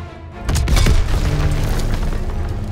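A tank cannon blast in Call of Duty WW2, one heavy booming hit followed by a rumbling battle din that carries on loudly to the end.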